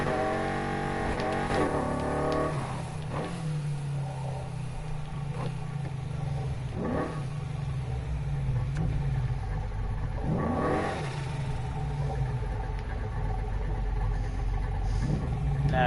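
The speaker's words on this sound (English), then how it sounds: "So we'll go down here and test out the nitrous." A car in the racing game Need for Speed Heat accelerating hard with nitrous: loud, continuous engine roar with repeated rising rev sweeps and gear changes over a deep rumble.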